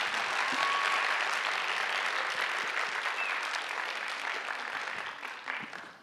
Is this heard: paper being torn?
no